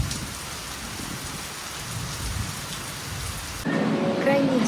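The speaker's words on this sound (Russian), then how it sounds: "Сейчас дождик идет, какая-то пасмурная погода." Steady rain falls in Phuket on an overcast day, a dense continuous hiss of drops with a low rumble beneath, growing slightly louder and closer near the end.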